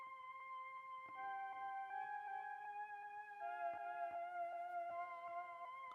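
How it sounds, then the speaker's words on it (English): A tape strings synth preset from Jura, roughened with stutter, reverb and detuning plugins so it resembles an old sample, plays sustained chords that shift every second or so at steady, moderate loudness with no voices. "I've thrown in the tape strings preset from Jura"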